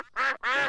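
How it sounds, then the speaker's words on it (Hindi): Two loud, close quacks from a cartoon duck in a Peppa Pig episode, each about a quarter second long with a brief gap between them, with no talking. "बत्तखों को और खाना चाहिए।"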